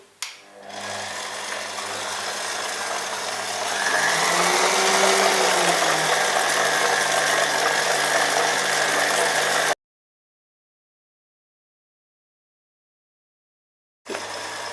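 An electric mixer beats flour, butter and sugar for cupcake batter with a steady, close motor whine whose pitch briefly dips and rises, then cuts out before starting again.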